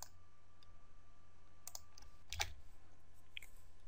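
A few quick key clicks on a computer keyboard, a faint pair of presses followed by a sharper cluster and a last light tap, in an otherwise quiet room.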